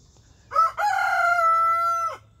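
A single loud rooster crow close by, a short opening note followed by a long drawn-out call that tapers off, over faint background noise.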